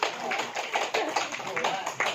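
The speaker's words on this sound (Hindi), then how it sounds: "अच्छा हुआ, ताली बजाओ" An audience at a Shri Ram Janaki temple gathering in Dhangadhi, Nepal, claps in a dense, steady burst of applause, fairly close and lasting a couple of seconds.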